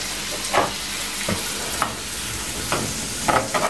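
A chestnut meatball mixture thinned with a little water is stirred close by, giving soft wet scrapes and a few distinct spoon strokes at irregular intervals over a steady hiss.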